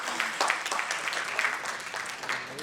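Brief applause from the audience at a talent management panel, a moderate burst of scattered clapping from the room lasting a few seconds.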